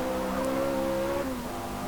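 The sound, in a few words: Chevrolet Corvette Z06 engine in Forza Motorsport video game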